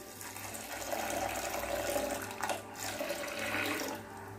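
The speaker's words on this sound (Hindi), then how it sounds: "डालूँगी, पानी डालूँगी।" Water is poured into a pressure cooker holding peas, giving a steady close splashing rush that lasts several seconds with only small changes in strength. No one speaks over it.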